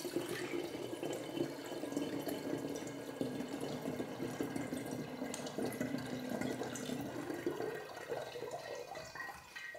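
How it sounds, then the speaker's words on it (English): Dandelion syrup trickles and splashes steadily into glass demijohns, a soft continuous pouring sound that eases toward the end. "I'm gonna put 50-50 of the dandelion syrup in each of the demijohns"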